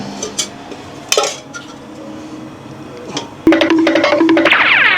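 Utensil clatter in a kitchen as oil goes into a pan for a prawn masala, with a spoon clinking against metal, then a louder, steadier run of clinks and scraping toward the end.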